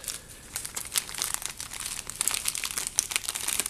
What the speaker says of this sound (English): Guess we'll go ahead and open up this accessory pack real quick.